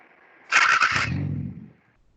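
A car engine is cranked and restarted during an instructor-led MAP sensor lesson. A loud, scraping starter burst gives way to a low, rough rumble that settles briefly and then cuts out, with no talking.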